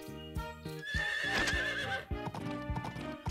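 Horse hooves clip-clop in a steady rhythm while a loud whinny rings out in the middle, over a busy game music backdrop in Story of Seasons: Pioneers of Olive Town.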